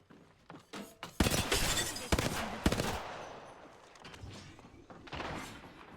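Gunfire in the shooter game Apex Legends: bursts of rapid shots and sharp impacts, fairly close, with some thuds and breaks between volleys.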